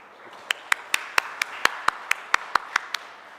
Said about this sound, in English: A warm round of applause, please, for our panel.